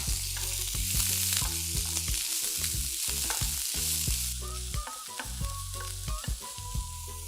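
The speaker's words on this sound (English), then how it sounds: "Now into this really hot pan, I'm gonna be adding some onions." Onions hit a really hot pan and fry with a loud, steady sizzle, broken by scattered clinks and scrapes of stirring, with no voices.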